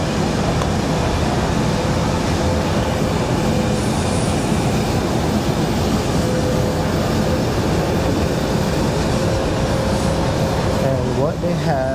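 A metro train rumbles past at close range with a steady, loud roar and faint wheel squeals near the end, while a person talks over it.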